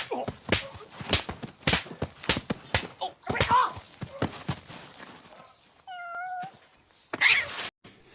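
A cat meows several times, drawn-out tonal cries near the end, after a stretch of lively speech and background chatter from people talking nearby.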